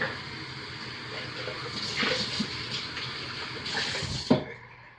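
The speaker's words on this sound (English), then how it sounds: "So carefully pouring the lye water into the oils" Lye water pours into soap-making oils in a steady liquid stream, a continuous close splashing pour that swells slightly before a brief clunk and trailing off near the end.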